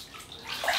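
Water splashes briefly as a face is wetted before a wet shave with a Rockwell 6C safety razor and orange amber shaving cream, a short close swishing burst that grows louder toward the end.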